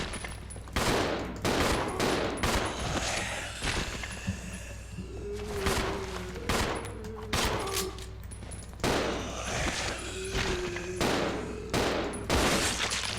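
Rapid gunfire aimed at zombies in Resident Evil 0 HD Remaster, with repeated sharp bursts and shots spread through the scene, loud and close, alongside game effects and no talking.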